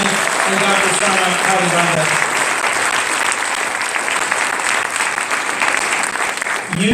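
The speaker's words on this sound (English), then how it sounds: "I think they deserve another round of applause to Dr. Sabrina and Dr. Shana" Sustained audience applause fills a swearing-in ceremony hall for the parents, steady and dense throughout, with a voice speaking briefly over it near the start and again at the end.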